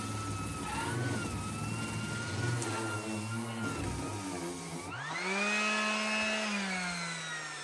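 A Ridgid orbital sander with a worn-out bad bearing runs steadily up close, its loud motor whine holding a tone and then abruptly shifting pitch partway through, with no talk.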